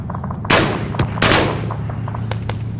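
Gunfire in a World War II video game battle at Kasserine Pass: two loud, close shots stand out, with fainter, scattered shots in between.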